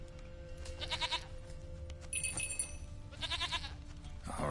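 A goat in The Witcher 3: Wild Hunt bleats in two separate bursts, one early and one later, with a brief bright tone between them, all over a low, steady ambient hum.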